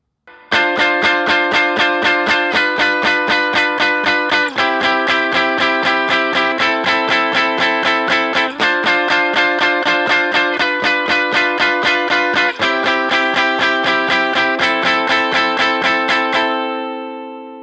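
Strummed guitar chords of a song, played as a steady rhythmic strum pattern with clear repeating chord changes, loud and close throughout with no talking, ringing out at the end.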